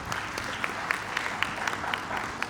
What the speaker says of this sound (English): Let's have a clap for meglumi then